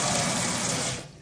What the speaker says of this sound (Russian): Напор воды замечательный.